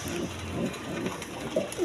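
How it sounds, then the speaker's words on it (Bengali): Pair of Bombay pigeons sitting on their eggs, giving a few soft, low coos amid a noisy, rustling background with no speech. "দর্শকবৃন্দ এইখানে আরেক পেয়ার বোম্বাই কবুতর দেখেন, একদম কোয়ালিটি সম্পন্ন কবুতর দেখেন"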